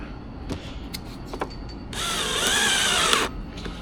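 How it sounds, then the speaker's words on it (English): A power drill drives a self-tapping screw into a BMW G30 door panel, a loud high whine lasting about a second and a half after a few light clicks and taps nearby. "So I have just been self-tapping this one."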